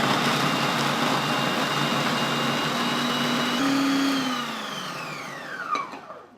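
A blender whirs steadily as it purees lamb, onion and tomatoes into a paste for Lebanese lamb pizza, then the motor winds down, its pitch sliding lower until it stops with a faint knock.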